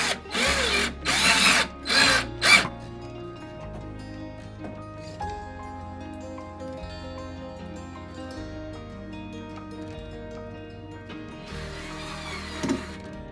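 A power drill drives screws into a wooden furniture piece being restored into a chest, giving four loud, close whirring bursts in quick succession before music takes over.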